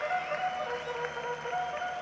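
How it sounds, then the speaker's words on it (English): Simulated baseball stadium crowd in a 1985 ALCS Blue Jays–Angels game replay, a steady, loud wash of cheering and applause with no gaps, the whole stretch filled with crowd noise. "The crowd calling for George Hendrick."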